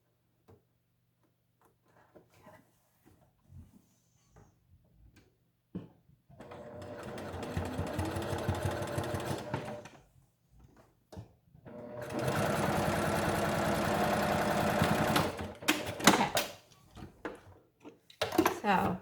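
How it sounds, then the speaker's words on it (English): Sewing machine top stitching around a fabric face mask, two sustained bursts of fast mechanical whirring with pauses, small handling clicks and a quiet voice in between. "So now that we've top stitched around our mask"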